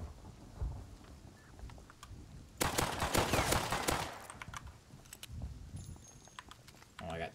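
Video game gunfire, a dense burst of rapid shots lasting just over a second amid a noisy rumbling game soundtrack, with a few fainter pops scattered before and after.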